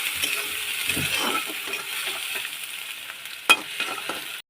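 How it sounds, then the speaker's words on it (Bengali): Onions frying in oil until reddish-brown for dhaba-style chicken keema, a moderate sizzle with soft stirring scrapes and a sharp metallic clink late, ending abruptly. "পেঁয়াজটা বেশ লাল লাল করে ভেজে নিতে হবে"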